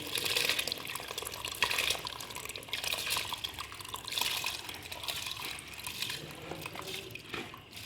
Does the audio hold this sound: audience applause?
no